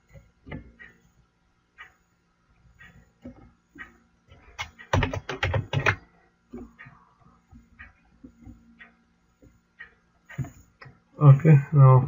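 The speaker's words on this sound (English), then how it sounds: "let's type a message" Scattered clicks of typing on a computer keyboard come in sparse bursts with a denser flurry midway, close and fairly quiet, and a voice speaks briefly at the end.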